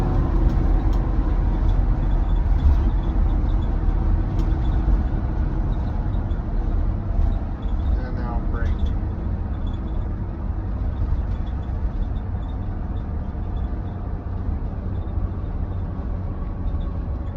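Mercedes Sprinter 4x4 van on a downhill road, engine under throttle: a loud, continuous low drone and road roar fill the whole stretch, steady with slight rises, heard from inside the cabin.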